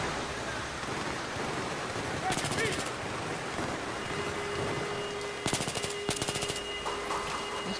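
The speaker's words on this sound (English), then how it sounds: "This gun is sick." Rapid automatic gunfire from a modded gun in Minecraft comes in three short, crackling bursts over a constant rain-like hiss. A voice talks now and then.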